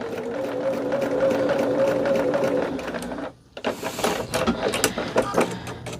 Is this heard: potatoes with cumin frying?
no